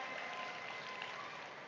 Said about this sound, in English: Everyone, big round of applause for Kinally.